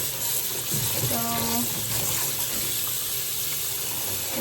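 Tap water runs steadily into a sink while ingredients for potato ramen are rinsed, a constant close gush with a few small clinks and a brief voice underneath.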